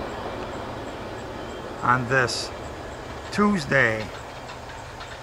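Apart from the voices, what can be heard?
CSX freight train passing, EMD GP40-2 locomotive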